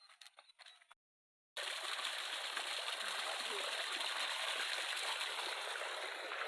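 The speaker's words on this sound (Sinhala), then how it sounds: "වතුර පාර ලස්සන පාර මැද්දේ යන්නේ" After a short silence, water flowing across a road after a landslide in Gampola, Sri Lanka, rushes in a steady, close, hissing gush. Faint sounds come just before the silence.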